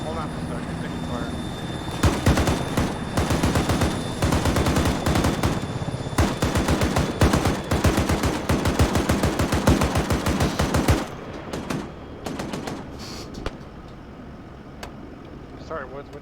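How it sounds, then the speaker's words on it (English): Rapid bursts of automatic gunfire in a military video game rattle loudly for about nine seconds over a helicopter's drone, then thin to scattered shots, with voices talking over it. "Taking fire."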